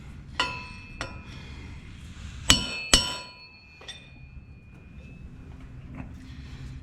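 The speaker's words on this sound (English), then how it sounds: "hit that bolt a couple of times" A few metallic hammer blows on a wheel bolt of a RZR during portal box seal work, ringing clanks spaced irregularly with two strong hits near the middle, close up in a quiet garage.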